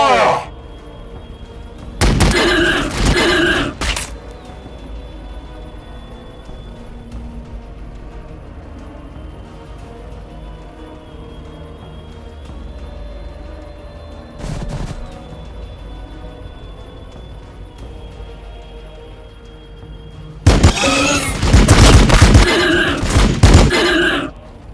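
Gunfire and explosions from the Warhammer 40,000: Battlesector strategy game, with two loud broadband bursts near the start and one near the end, a short crack in the middle, and a low rumbling battle bed between them.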